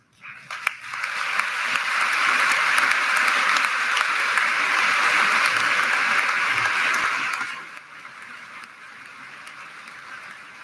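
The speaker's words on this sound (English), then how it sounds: "let's give them a round of applause." Audience applause at a high school graduation ceremony for cum laude honors students, swelling quickly to a full, steady roar of clapping, then dropping off sharply near the end to quieter room noise.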